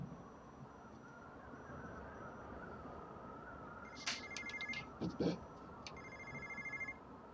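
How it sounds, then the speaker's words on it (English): Telephone ringing inside the video game Tales From The Borderlands, a few short electronic rings arriving late and fairly faint over steady background game ambience, with no talk. "I hear a phone."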